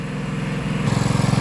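A Briggs & Stratton engine on a minibike idles a little fast, a steady near putter with a pulsing beat that grows slightly louder and quicker partway through, no talk.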